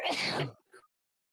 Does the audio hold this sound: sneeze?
yes